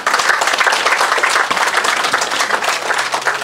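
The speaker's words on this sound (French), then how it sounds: "qu'on applaudisse déjà Henri Isaac et sa mémoire" Steady applause from a crowd at the inauguration of a football pitch lighting system, dense and sustained clapping throughout without pause.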